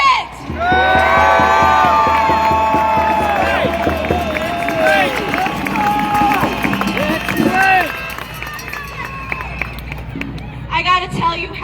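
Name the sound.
protest rally crowd cheering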